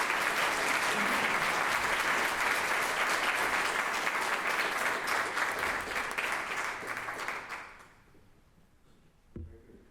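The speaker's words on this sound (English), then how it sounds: "please welcome, with a warm applause, Matthew Larkum" Sustained applause from a large audience at a neuroscience lecture fills most of the stretch, then tapers off and fades to near silence, ending with a single soft knock.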